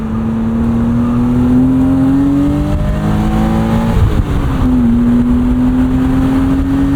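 The engine of a 1999 BMW Z3 M Roadster with a manual transmission is heard from inside, droning loud and steady as it accelerates. It rises in pitch, dips briefly at a gear change, then climbs again.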